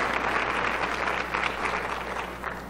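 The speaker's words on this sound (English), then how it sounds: "So please give them all a round of applause" Round of applause from attendees at a nursing research annual conference, dense and sustained clapping with a low steady hum underneath, easing slightly toward the end.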